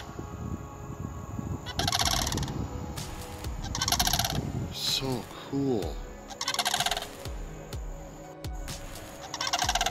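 Repeated loud gobbling bird calls in bursts, fairly close, with a brief word spoken amid them.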